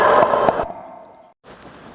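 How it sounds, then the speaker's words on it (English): Enemy scream from the video game Nightshift Remastered, a loud harsh noisy burst lasting about half a second that fades into a thin tone, a short silence, then low rumbling noise. "he will scream like this."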